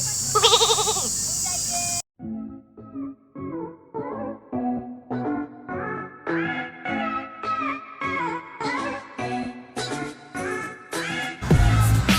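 Sheep at a sheep farm in Ratchaburi, Thailand, bleat in a rapid series of wavering, nasal calls, one after another and fairly close, after a brief burst of other noise at the start.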